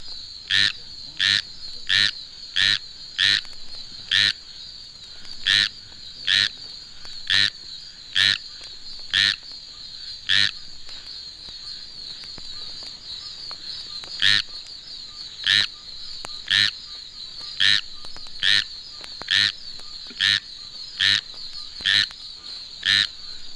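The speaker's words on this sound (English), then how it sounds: "The squirrel tree frog, clinging to a limb high up in a tree far removed from any breeding site, may come forth with its rain song" Squirrel tree frog rain song: a steady series of short, evenly spaced nasal croaks repeating about once a second over a faint background hum, calling alone from a tree limb.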